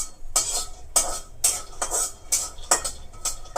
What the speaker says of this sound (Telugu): పల్లీలు హాఫ్ వరకు వేగిపోయినాయి